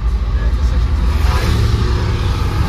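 A car engine hums and builds steadily under gentle acceleration during a driving lesson on the road, a continuous close drone with a voice speaking over it.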